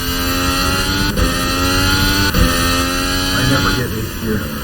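A Formula One–style race car engine screams at high revs in a video game, loud and unbroken, with brief dips at gear changes and a voice talking over it.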